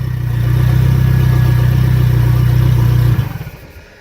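A Mitsubishi 4G63 engine with freshly adjusted cam gear timing holds a loud, steady, droning rev close by for about three seconds, then drops off quickly as the throttle closes.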